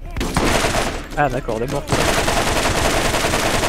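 Rapid gunfire from a Borderlands firefight, dense and continuous bursts throughout with a brief lull where someone speaks in French over the shooting.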